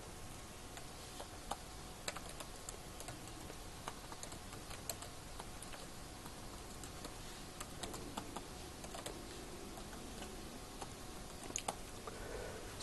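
Someone types code on a computer keyboard, producing soft, irregular key clicks in quick clusters with short pauses, close but quiet over a faint steady hiss and no speech.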